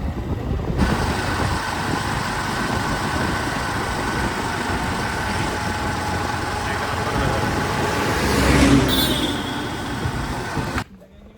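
Steady road and engine rumble from inside a moving car on a family outing near Khadakwasla dam and Panshet, continuous and close, swelling slightly louder near the end before cutting off abruptly.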